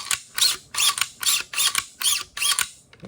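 Bolt of a PSA Jakl rifle fitted with an AS Designs trip kit cycling repeatedly, six sharp metallic clacks in a steady rhythm, close and clear with no talk.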